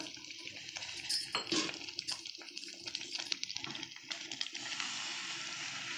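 Leftover masala loosened with a splash of water is stirred for brinjal gojju, giving close, wet spoon scraping and light clinks against a pot, continuous and fairly quiet.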